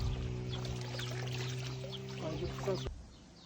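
Ice-cold spring water gushes from its source in the hills near Fethiye, a steady close rush of pouring water with a constant hum under it, which cuts off abruptly near the end.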